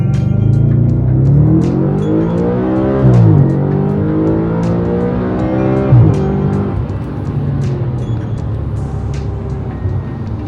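A 2013 Audi RS5 fitted with a K&N air intake accelerates hard, its engine note rising steadily through gear changes, loud and close throughout with no voices.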